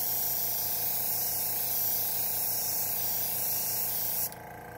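An airbrush sprays paint onto a turkey decoy in a steady, close, continuous hiss that drops off sharply near the end.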